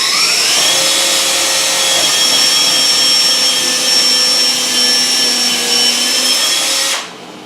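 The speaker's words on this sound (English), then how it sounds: "and that's where we're going to drill our pilot hole." A power drill whines loudly and steadily for several seconds, its pitch shifting slightly as it bores, then cuts off abruptly.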